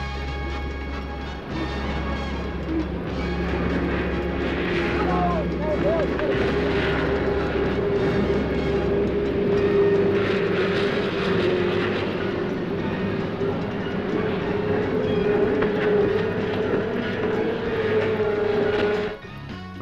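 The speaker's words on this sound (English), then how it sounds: "And now for the start of the powerboat race, 50 miles across the deep blue waters." Powerboat engines roar together at the start of a 50-mile race at an Australian Barrier Reef festival. The loud, steady drone holds throughout with a low throbbing hum, and faint crowd noise sits underneath.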